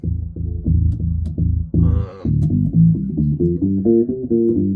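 Deep, low bass guitar notes, all strings tuned down a whole step, played in a steady rhythmic pattern, with a brief higher plucked flourish partway through; no talking.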